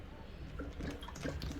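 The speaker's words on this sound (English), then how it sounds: "A steady stream of water will start exiting the hose" Water trickles and gurgles through the hose of an aquarium gravel vacuum on a small 3 to 10 gallon tank, a soft, continuous liquid burble with small drips and splashes, faint and close.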